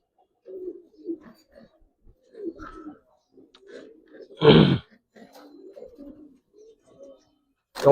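Coloring Giribaz pigeons coo in soft, throaty bursts at a farm, close and intermittent, with one louder rough grunting call midway and no talking.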